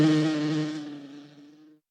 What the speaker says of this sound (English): Buzz.